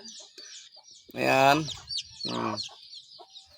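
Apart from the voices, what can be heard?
mother hen clucking with her chicks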